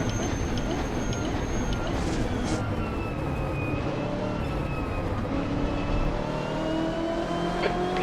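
An LMP prototype race car in the Assetto Corsa racing game sweeps past with a rising-then-falling engine whine over the continuous roar of the player's own car.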